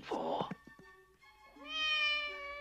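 A cat meows for breakfast, a faint, drawn-out rising cry following a few short, soft sounds at the start.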